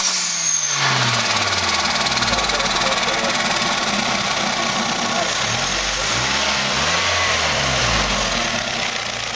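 A turbocharged 1.8-litre Nissan Sentra engine runs with a continuous, loud, close drone, holding steady with slight rises in pitch, recorded near the blow-off valve outlet.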